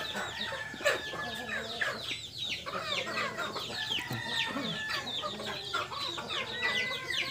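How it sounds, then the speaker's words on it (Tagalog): A large flock of small farm chickens clucking constantly in a dense, overlapping chorus, with occasional crowing standing out from the steady background of bird calls. "Ay daghan sa mga manok."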